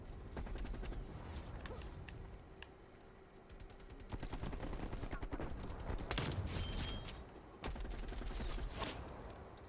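Rapid bursts of automatic gunfire from a video game rattle in quick repeated shots, with loud volleys and brief pauses between, under a steady background hum.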